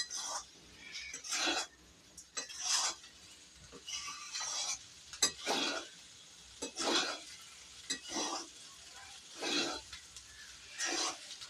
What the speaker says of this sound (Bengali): এটা এরকম নাড়িয়ে চাড়িয়ে নিতে হবে।